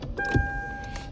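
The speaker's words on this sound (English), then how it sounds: "There, now we got the beep." Short electronic beep from a 4K dashcam as car power switches on, two thin steady tones heard inside a parked car over a brief mechanical thump and hum.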